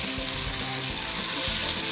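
Turkey berries (sundakkai) frying in a hot pan for a puli kuzhambu: a steady, dense sizzle with faint stirring knocks, close and continuous throughout.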